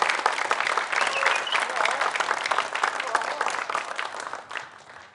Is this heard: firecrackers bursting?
no